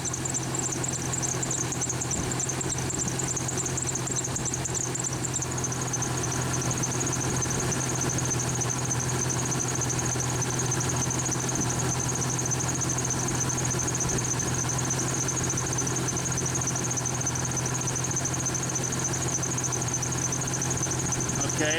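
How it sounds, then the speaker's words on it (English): A car engine idles steadily and evenly at close range, a continuous low drone with a faint hum above it, with no talk or other sounds breaking in. "So the engine is running."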